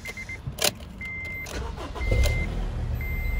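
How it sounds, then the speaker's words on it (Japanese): Honda Integra Type R DC5 with HKS circuit attack counter and Ohlins coilovers cranks briefly and catches, settling into a steady idle close by, with electronic chimes sounding over the start; no talking. "エンジンのかかりはね、非常にいいですね。"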